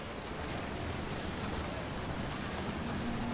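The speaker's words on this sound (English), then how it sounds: "Thunder sounded much too close and full of angry power." Steady rain with distant rumbling thunder in the video game What Remains of Edith Finch, a constant hiss of falling water at moderate level with a low, continuous undertone.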